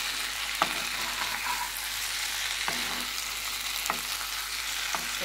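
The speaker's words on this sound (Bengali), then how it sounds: "চলো, ডিমগুলো দিয়ে একটু নেড়ে নিই" Eggs stirred through a spice mixture in a frying pan give a continuous close sizzle, with a spatula knocking against the pan every second or so.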